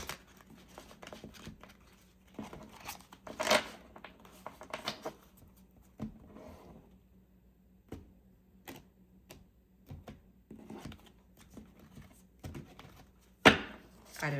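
A deck of cards is shuffled repeatedly, with sharp riffling bursts and light slaps separated by quiet pauses, crisp and close by.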